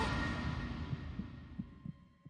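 A game heartbeat effect from Zero Escape: 999 gives a few soft, low thumps near the end of a fading, hushed hum, faint and close.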